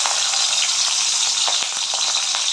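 Prawns frying in hot oil for chowmein, a dense, bright, steady sizzle close by with small pops and crackles, continuous and without any talking.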